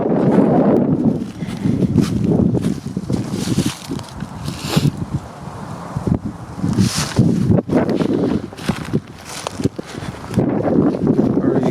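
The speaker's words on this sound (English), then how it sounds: "Oh, it's windy out here." Gusty outdoor wind at the Chickamauga battlefield buffets the microphone in uneven rumbling surges for about twelve seconds, with brief quieter gaps between strong blasts.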